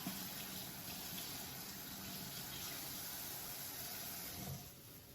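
Water running steadily from a tap over romaine lettuce, carrots and red cabbage being rinsed, a continuous soft rush that eases slightly near the end, with no talk.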